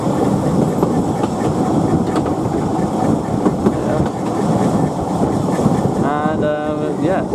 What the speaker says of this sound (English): the train will come around here and curve up to this track